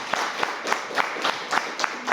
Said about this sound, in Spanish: estos aplausos y alabanzas